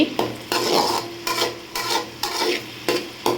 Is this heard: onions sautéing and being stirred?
yes